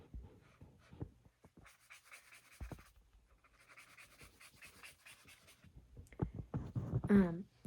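Pencil or pen scratches across paper in short bursts and longer strokes, close and quiet, with tapping and handling noises between strokes.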